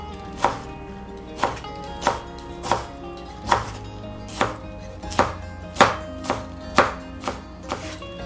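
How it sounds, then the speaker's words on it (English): A knife chops cabbage leaves on a cutting board in about ten sharp, close strikes at a steady, unhurried pace, each chop distinct against a quiet background. "But the leaves, I'm going to chop them up really nice and small."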